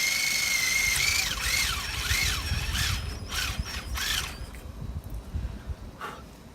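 A drill bit boring a bolt hole in a piece of wood. It opens with a steady high whine, then rises and falls in several quick surges as the bit is worked in and out, and fades to quiet scraping near the end.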